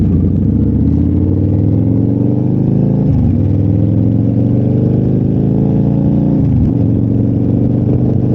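A 2005 Victory Hammer cruiser drones loudly and steadily while riding, its engine note dipping sharply twice at gear shifts before climbing back up, with no talking.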